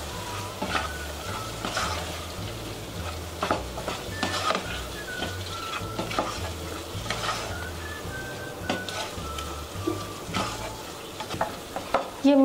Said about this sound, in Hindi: लाल मिर्च पाउडर और गरम मसाला डालेंगे। इसे हम बराबर मिक्स कर लेंगे।